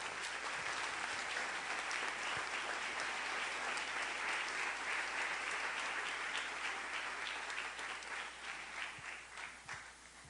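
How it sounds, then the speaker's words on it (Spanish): A church congregation applauding during a Sunday service, steady dense clapping from many hands filling the room, fading slightly toward the end. "Si lo comprende, denle un aplauso al Rey"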